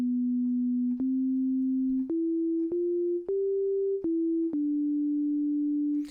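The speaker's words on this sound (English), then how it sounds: "So let's listen to a sine wave." A pure, smooth synthesizer sine tone holds steady notes, stepping up and down in pitch with small clicks at each change; no voices.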